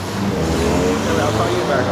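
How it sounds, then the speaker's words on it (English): An Audi Quattro wagon engine revs on a busy street in Houston, a loud, steady drone that sounds close for a brief moment. A voice talks over it. "Got the Audi Quattro wagon."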